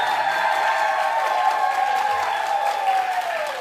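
Studio audience at a talk show, applauding and cheering loudly and continuously, with whoops rising over dense clapping throughout.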